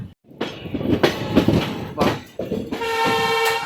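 The Tirupati–Bilaspur Express train rumbles and clatters nearby, with rhythmic wheel thumps and a sustained horn-like tone toward the end.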